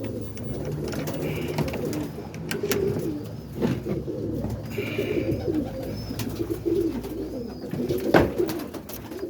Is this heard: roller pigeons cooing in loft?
yes